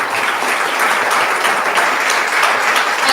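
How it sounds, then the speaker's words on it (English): Steady, dense applause from an audience after a technical talk on the energy scenario at a National Technology Day event, many hands clapping loudly and evenly throughout with no pause. "give a big round of applause to sir"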